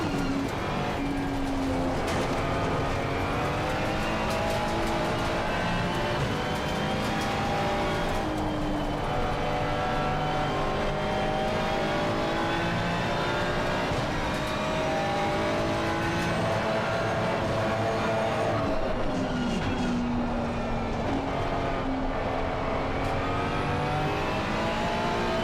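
A race car engine in a sim racing game at Barcelona, driven in an Artura, revs continuously and loudly, its pitch sweeping up and down through gear changes and braking, steady and close with no talking.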